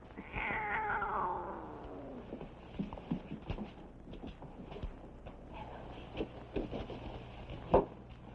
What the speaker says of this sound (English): Hey, cat, get.